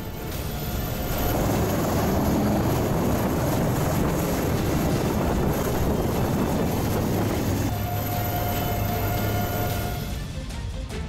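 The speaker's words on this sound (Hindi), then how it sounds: "एयरफोर्स के पायलट ने अपने हेलीकॉप्टर को बाढ़ के पानी से घिरे एक मकान की छत पर उतार दिया" An Air Force helicopter landing on the roof of a house surrounded by Kerala floodwater, its rotor and engine roaring loud and continuous, then easing into a steadier whine near the end, with no speech.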